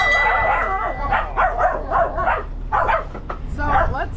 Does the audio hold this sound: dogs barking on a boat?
yes